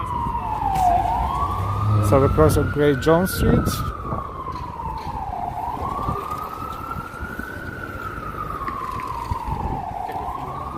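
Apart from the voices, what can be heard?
emergency vehicle sirens on New York street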